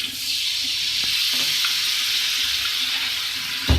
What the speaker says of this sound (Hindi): थोड़ा सा पानी। मैं जो है इसमें ऐड करूँगी।